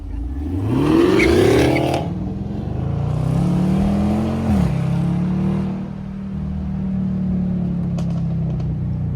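A Chevrolet Camaro SS V8 drives through downtown streets with a loud, close engine note that swells under acceleration, eases off, then settles into a steady rumble.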